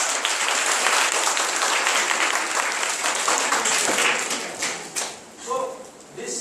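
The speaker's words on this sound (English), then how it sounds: "Give them a big round of applause" An audience breaks into loud, dense applause that holds steady for several seconds, then thins out into scattered claps near the end.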